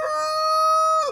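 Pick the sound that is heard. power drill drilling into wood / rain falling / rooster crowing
rooster crowing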